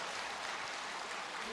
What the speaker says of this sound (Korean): 우리 옆 사람을 보시면서 축복의 박수를 한번 해주시죠